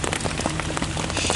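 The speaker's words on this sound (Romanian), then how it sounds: "Sper să se potolească ploaia." Rain pours steadily in Borneo, a dense, close patter of drops hitting surfaces, continuous and fairly loud throughout.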